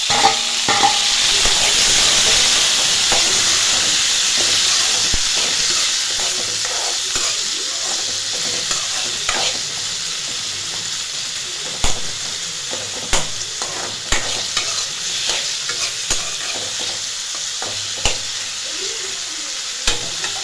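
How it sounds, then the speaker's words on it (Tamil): Onion and tomato fry for a potato masala, a loud hissing sizzle that gradually softens, with periodic sharp scraping and stirring knocks from a spoon in the pan. "இப்போ வந்து வெங்காயம் வதங்கிருச்சு. தக்காளி சேர்த்துக்கலாம்."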